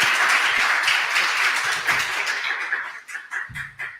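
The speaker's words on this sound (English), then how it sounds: "So massive round of applause" Enthusiastic applause and clapping from an audience at a fusion meetup event, dense and sustained at first, then thinning into scattered individual claps toward the end.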